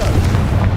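A Confringo spell explosion in the Hogwarts Legacy video game, a short, loud, booming blast with a heavy low rumble that fills the whole moment.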